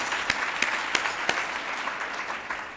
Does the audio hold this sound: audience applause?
yes